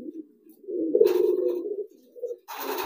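A male pigeon gives loud, deep, rolling coos at close range, two drawn-out calls with a short gap between them, followed by a brief burst of rustling.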